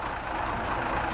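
An old truck engine runs at a steady low rumble, a continuous, fairly close drone with no voices over it.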